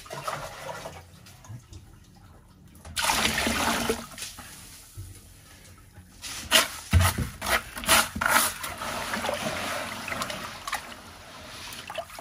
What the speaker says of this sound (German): Sand muss man grundsätzlich immer auswaschen